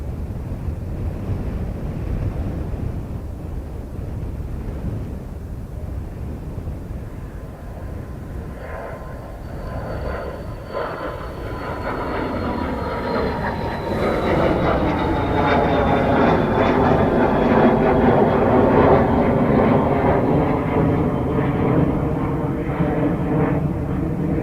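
Jet engines spool up as an airliner takes off from Dublin Airport, the roar building from a low rumble into a loud, rising whine with wind buffeting the microphone and a voice briefly heard early on.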